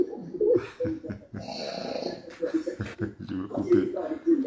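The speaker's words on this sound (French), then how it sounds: "il y a quelqu'un qui ronfle là" A person snores loudly into an open microphone during an online voice chat, rough rasping breaths repeating under and between lively talk from other people.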